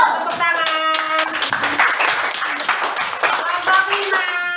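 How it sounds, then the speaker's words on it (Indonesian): Students clap together in a classroom, a steady burst of hand claps lasting several seconds, with faint voices and singing-like tones mixed underneath. "Tepuk tangan."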